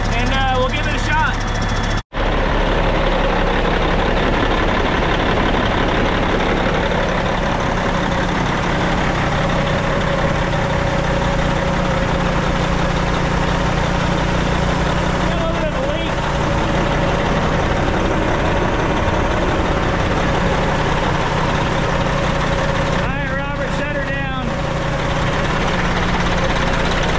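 An abandoned Kenworth C500 truck idles after being brought back to life, its engine holding a steady, loud, low rumble throughout, with voices speaking now and then over it.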